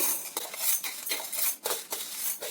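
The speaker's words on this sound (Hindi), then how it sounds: "अब इसे मसाले वाले जार में हम डाल लेंगे" Roasted whole spices tipped into a steel grinder jar for homemade masala, a close, continuous rattling patter of small hard pieces sliding and clinking against metal.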